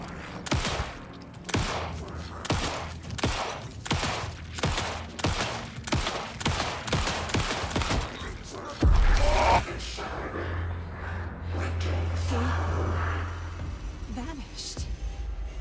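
Gunfire in the video game Alan Wake 2, a rapid run of loud, evenly spaced shots close up, then a heavy thump and a low droning rumble as the shooting stops.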